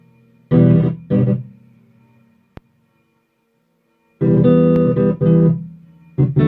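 An electric guitar played through a fuzz pedal with no booster, fuzzy and distorted, plays short chord stabs, broken by gaps of silence and a single sharp click.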